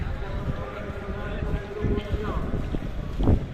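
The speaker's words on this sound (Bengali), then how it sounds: "ঝড় উঠেছে বাতাস বইছে" Stormy wind gusts past a partly finished rail underpass on a busy road, a steady low roar of buffeting noise across the mic, with a voice talking over it.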